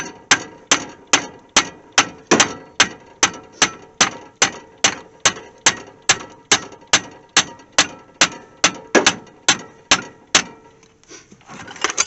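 A hammer taps steadily on a bolt freed from blue threadlocker on a classic Mopar caliper in a junkyard, about thirty sharp, evenly spaced metallic knocks, loud and close, with no talking.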